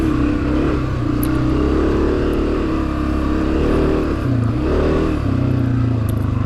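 A Honda CRF250F dirt bike engine runs hard on the throttle during a hare scramble race, loud and continuous with revs rising and falling as the rider shifts and accelerates, no talk over it.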